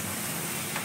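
A snack deep-frying in oil that has run a little too hot, giving a steady, loud, close sizzle and bubbling with no talking.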